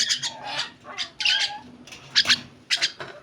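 Common myna chick, offered for sale at a pet bird seller's shop, calls in a run of short raspy squawks and cheeps, close and fairly loud, with brief gaps between them and no talk.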